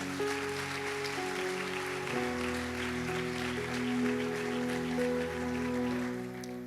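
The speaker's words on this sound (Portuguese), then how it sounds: "Dê para ele um aplauso bem forte." Church congregation applauding, a soft, continuous wash of clapping heard from a distance beneath sustained musical tones from a keyboard or band.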